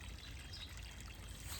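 Water trickling out of a siphon hose, a faint, steady pour and dribble running without pause, with no talking.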